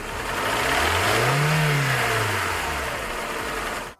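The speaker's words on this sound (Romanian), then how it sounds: "Zgomotul acesta eu l-am în prezent la Hyundai Sonata." A Hyundai Sonata engine with piston slap runs steadily, rising briefly in pitch as if lightly revved and then settling back, loud and close throughout before cutting off at the end.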